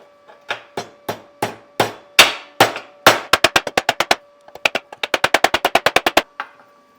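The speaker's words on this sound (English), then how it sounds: "A little hammer. There it is." A small hammer taps metal while shocks are fitted on a 1951 Chevy, first in slow, evenly spaced ringing strikes, then in quick bursts of rapid taps, loud and close.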